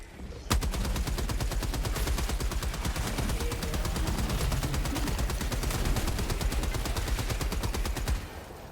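Sustained heavy machine gun fire in the video game Helldivers 2, a rapid unbroken stream of loud close shots lasting about eight seconds before cutting off.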